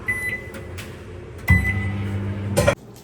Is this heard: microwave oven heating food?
yes